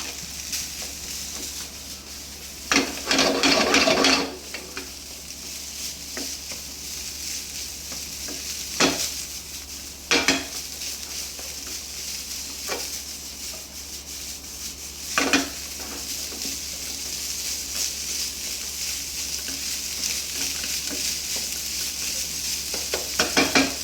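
Rice for butter chicken fried rice is stir-fried in a pan over a low, continuous sizzle, with scattered bursts of scraping and tossing strokes from a spatula, close up and without any voices.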